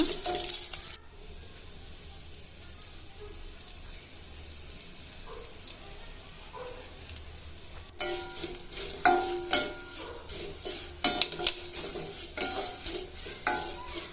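Dried red chillies and curry leaves sizzle in hot tempering oil for a pepper dal rasam, a steady close hiss that grows busier with crackles and stirring clinks in the second half.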